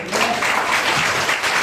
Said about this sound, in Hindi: हालेलुया। ताली बजाएंगे।